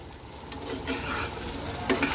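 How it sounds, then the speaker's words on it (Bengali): Fried potatoes are stirred into spice masala in a pan, producing soft scraping and clinking strokes over a faint oil sizzle, close and quiet for a couple of seconds. "আলুগুলো খুব সুন্দর করে মশলার সাথে মিক্সড করে দেব"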